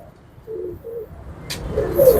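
Pigeons coo nearby in a loose sequence of soft low calls, followed by a brief rustle and rising noise near the end, with no talking over them.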